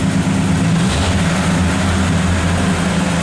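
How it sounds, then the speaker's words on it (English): A steady, low engine idle from a 1950 car rumbles continuously at close range, idling slightly high, with a deep droning hum and no voices. "Idling a little high, but it started."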